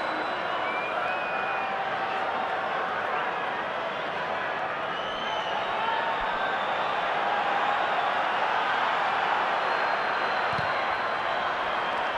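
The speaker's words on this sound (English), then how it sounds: "Brings a great roar from the crowd" A dense, steady roar from a large stadium crowd at a 2010 Super Rugby match between the Bulls and the Waratahs, holding loud and continuous throughout with a faint voice over it.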